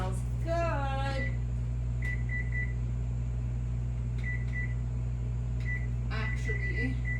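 A kitchen timer beeps while salmon bakes, sounding short high beeps in small repeated bursts over a steady appliance hum, with a person talking at the start and again near the end.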